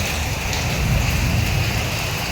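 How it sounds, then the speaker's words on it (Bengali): Heavy rain falls in the early morning, a loud, dense and unbroken roar with a deep low rumble beneath the steady patter, with no voices. "প্রচুর বৃষ্টি পড়তেছে।"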